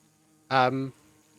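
Queen Bee from the Minecraft All The Mods 10 modpack gives a single short, clear buzz lasting under half a second, rich and droning, with no talk around it.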